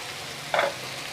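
Capsicum and cabbage hit a hot pan and sizzle in one short burst, loud for a moment and then settling back into a quiet background hiss.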